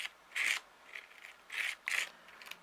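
Embossing paste scraped up and spread across paper with a tool, making several short, close, raspy scraping strokes separated by brief pauses.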